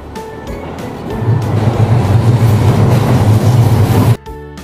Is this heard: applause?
no